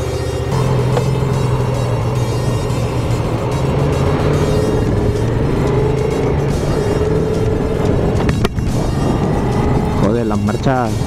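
Yamaha MT-07 motorcycle with a cable clutch riding along, steady engine drone and wind noise throughout, with rising revs and gear changes toward the end.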